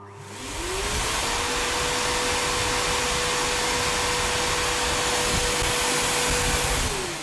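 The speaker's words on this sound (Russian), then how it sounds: "А теперь мы подключим нашу вертушку к пылесосу, который может работать как на выдувание, так и на всасывание." Vacuum cleaner set to blow, pushing air through a Feynman sprinkler, a loud steady whooshing roar that starts abruptly, with its motor tone rising and then holding, no talking.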